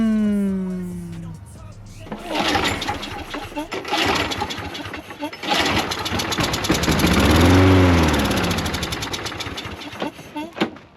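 A lawn mower engine with a stuck carburetor float sputters into life after a whine, then runs rough and uneven, surging and dipping loudly close by, while voices talk over it.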